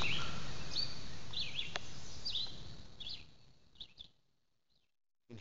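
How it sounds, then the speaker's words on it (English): Birds chirp in rural woodland on a seven-acre property in Pike County, Mississippi. A few faint, short calls sound over a quiet background hiss, then fade to near silence. "All you hear is the birds."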